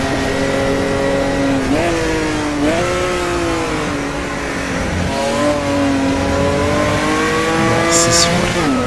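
A racing car in an online racing video game revs hard with its engine pitch rising and falling through gear changes as the rear slides out, loud and continuous, with a brief high squeal near the end.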